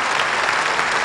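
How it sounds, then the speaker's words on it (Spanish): Steady applause from legislators and the public fills a hall at a 2005 presidential inauguration in Uruguay, a continuous wash of clapping with no breaks. "Tabaré Vázquez y el señor Rodolfo Nin Novoa, quienes son recibidos bajo un aplauso por parte de los legisladores y público presente"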